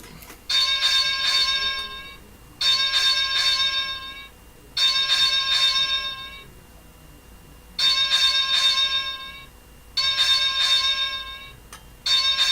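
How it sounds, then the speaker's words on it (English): A bell rings in bursts as a salute, each ring sustaining with a bright metallic tone, then a gap before the next, repeating steadily; no talking. "I want to do, like, a 21 bell salute"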